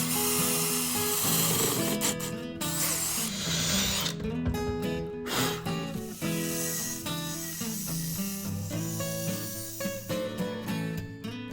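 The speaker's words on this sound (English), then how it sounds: "I'm going to make some cuts with a cutoff wheel to connect those, and then I'll just kind of grind it smooth around there." Cutoff wheel slicing through a thin Volvo 740/940 transmission casting during a CD009 gearbox swap, a loud continuous whining grind with shifting pitch and brief dips as the wheel bites and eases off, running the whole time without talk.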